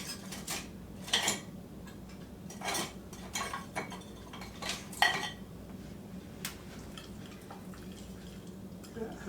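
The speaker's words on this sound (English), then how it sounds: "And I'm going to whisk that around." Whisking coleslaw dressing of lime juice in a bowl, heard as quiet, irregular clinks and scrapes of a utensil against the bowl over a low background hum.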